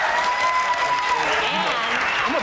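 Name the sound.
studio audience applause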